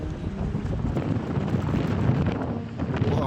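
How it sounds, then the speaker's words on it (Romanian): Strong wind gusts buffet the microphone on an exposed mountain road near a bus stop in the Gran Canaria highlands, a dense, steady roar with low rumble that persists throughout. "Bate vântul"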